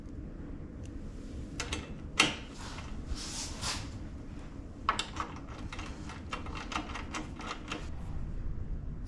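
A hand ratchet tightens the 13 mm bolts on aluminum crash bars of a Yamaha Tenere 700 motorcycle, giving repeated soft clicking bursts over a steady background hum, fairly faint and close.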